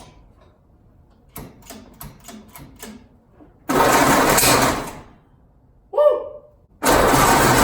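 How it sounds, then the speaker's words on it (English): A backyard-found Ford Model A with redone fuel lines and rebuilt carburetor cranks in a quick series of rhythmic turns, then bursts into loud rough firing that stops, sputters briefly, and catches again; one short excited shout breaks in. "now I'm gonna try to fire it again"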